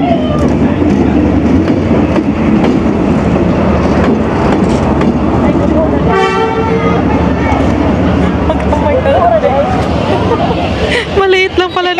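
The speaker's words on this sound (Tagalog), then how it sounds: "Maliit lang pala na train. Mas mahaba yung kanina." A short, small train rolls through Hanoi's Train Street in a tight residential lane, its steady rumble and clatter close by, with horn toots and an excited crowd murmuring and calling out around it.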